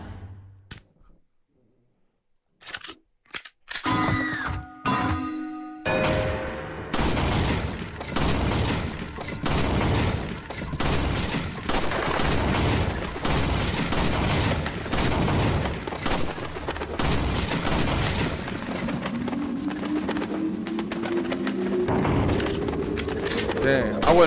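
Handgun fire in a virtual reality shooting range game: after a few isolated clicks and bangs, a long rapid string of sharp, closely spaced shots runs on with little pause, loud and near.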